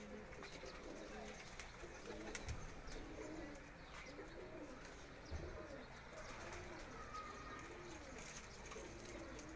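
Pigeons in a net cage on a rooftop coo faintly, low soft warbles repeating amid steady outdoor background noise with a couple of brief knocks.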